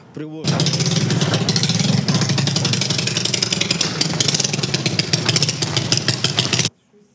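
A homemade motorcycle engine runs loudly and steadily for several seconds, a dense rapid clatter close to the mic, starting abruptly and cutting off near the end.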